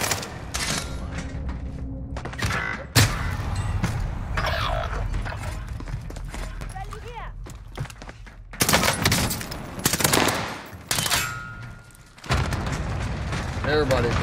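PPSh submachine gun fire in a Call of Duty match, with bursts of rapid automatic shots and booms in loud clusters under players talking over game chatter and effects.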